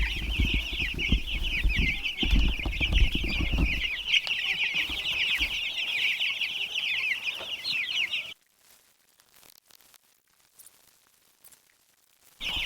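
Young meat chickens cluck and chatter steadily and close by for about eight seconds, with some scuffling underneath. The birds then fall almost silent.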